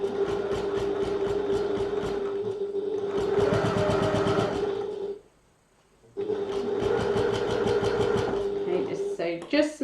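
A sewing machine stitches steadily around fabric, a fast rhythmic mechanical whir and clatter that stops briefly near the middle and then resumes at the same pace.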